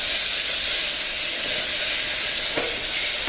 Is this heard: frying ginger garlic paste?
yes